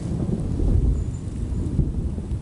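Rain and low rumbling thunder over a deep mulch garden, a dense steady wash of noise with deep booming swells, no voices.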